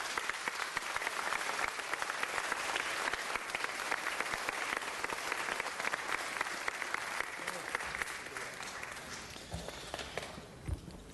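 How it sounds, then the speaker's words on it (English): Audience applause at a city council meeting, a steady wash of clapping from a crowd filling the room throughout, easing off slightly near the end. "Let's give a big round of applause,"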